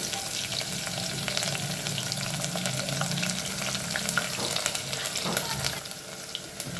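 Onion frying with cumin and curry leaves in hot oil for Kathiyawadi kadhi, a dense continuous sizzle close by with occasional stirring scrapes.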